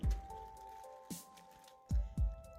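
Sourdough bread dough folded by hand, giving soft, wet squelches and slaps in a few separate bursts with quiet pauses between them.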